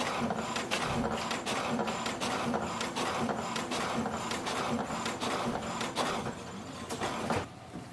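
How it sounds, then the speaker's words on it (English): An HP DeskJet 4275e printer prints an alignment page with a fast, steady run of mechanical clicks and whirring carriage passes, close and continuous, with the motor easing off near the end. "Wait for the printer, it will print alignment page."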